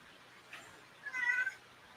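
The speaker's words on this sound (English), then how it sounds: "The cat's going off. You can hear him." A pet cat named Midnight gives a faint, short meow about a second long, quiet and somewhat distant over a low room hiss, with no talking.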